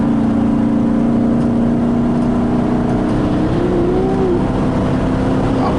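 A Hemi-powered car's engine and exhaust drone steadily as it accelerates on the highway, a continuous low rumble with a rising whine near the end, heard from inside the car with no talking.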